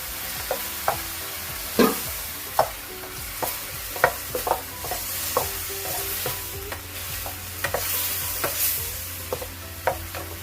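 Cauliflower and shrimp stir-fried in a pan, a steady sizzle beneath repeated sharp scrapes and clinks of a spatula stirring at an uneven rhythm, close and clear with no voices.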